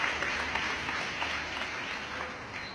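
An audience claps steadily in dense, sustained applause at a Yom-e-Shuhada ceremony, fairly close and even in loudness, with no talk over it.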